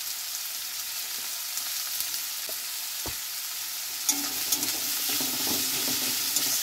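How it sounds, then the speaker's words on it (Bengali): Onions frying in a pan for a jackfruit and prawn curry, with a steady, close sizzle and a few light scrapes and clinks of stirring, no talking. "এবার ভালো করে পেঁয়াজটা লাল লাল করে ভেজে নেব"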